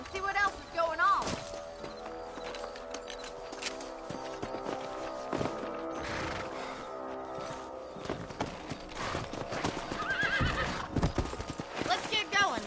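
Horses clip-clop at a walk across open ground in the Western game Red Dead Redemption, with a neigh near the start and steady hoof beats under music and occasional talk.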